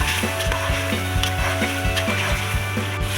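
Chicken pulao masala with chilli and salt being fried, a dense continuous sizzle with regular scraping strokes of a spoon stirring through the pan.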